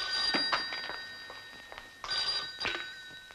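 A landline telephone rings indoors in short repeated bursts with bright metallic tones and brief pauses between rings, standing alone without talk.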